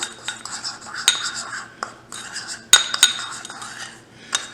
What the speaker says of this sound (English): So I'm going to mix up these ingredients here.